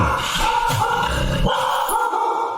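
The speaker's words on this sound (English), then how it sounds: "I hear the dog." A dog barks repeatedly against a constant noisy background, the barks fairly close and mixed with a busy hum.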